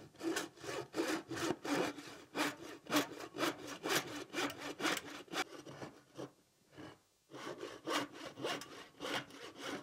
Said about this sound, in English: take a handsaw and clean that out